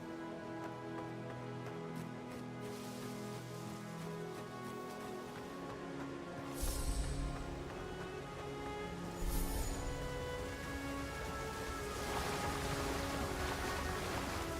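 A waterfall in the game Avowed gives a steady rushing, splashing wash of water, heard alone against soft layered ambient tones, with a couple of brief louder splashes.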